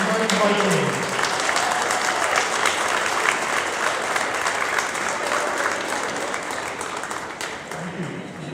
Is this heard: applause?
yes